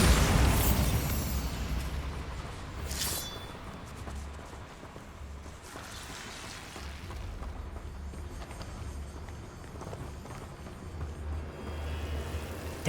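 A Bombarda spell from Hogwarts Legacy goes off with a sharp blast at the start, and another burst follows around three seconds in, over a steady rumbling game soundscape with low booms and no talking.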